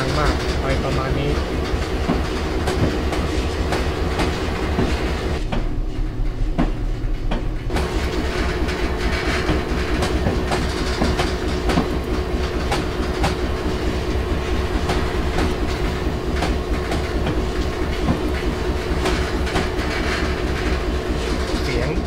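A train pulls a string of wagons in the TS-2018 Train Simulator game, a loud continuous rumble with rhythmic clickety-clack of wheels over rail joints and metallic screeching throughout.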